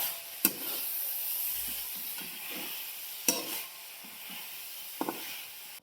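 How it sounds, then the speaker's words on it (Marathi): Cooked vegetables in a pan stirred after crushed peanuts are added, with a low steady sizzle and three sharp scrapes of the spoon spaced a few seconds apart, close and clear with no talking. "शेंगदाण्याचं कूट टाकून हलवून घेतलं"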